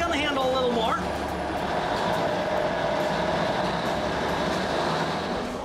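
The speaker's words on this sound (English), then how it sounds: "And who doesn't love the power of a 50-ton locomotive barreling down the tracks?" A diesel-electric locomotive rolls along the tracks with a continuous loud rumble and rail noise, steady and close, and a voice briefly speaks at the start.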